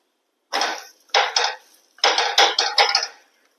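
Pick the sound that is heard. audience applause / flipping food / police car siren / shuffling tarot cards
flipping food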